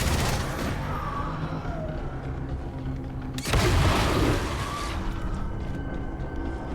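Gunfire in the shooter video game Armatus, heard as steady rattling shots under a game soundtrack, with a louder burst of bangs about halfway through.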